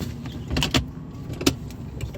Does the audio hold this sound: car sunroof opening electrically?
yes